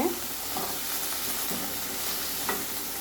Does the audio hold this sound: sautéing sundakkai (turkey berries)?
yes